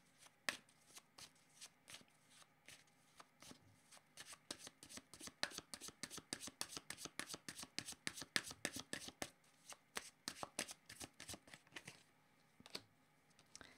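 Tarot cards being shuffled by hand, a dense run of crisp riffling slaps and flicks that builds in the middle and thins toward the end, close and fairly quiet with no talking.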